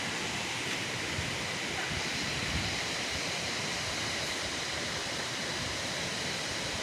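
Steady rushing river water where two mountain streams meet in Bhojpur, Nepal, a continuous broadband roar filling the scene with no pauses or voices.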